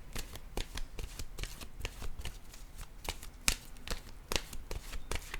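A deck of tarot cards is shuffled over and over, a quick run of crisp riffling flaps and soft slaps, up close and steady with no voices.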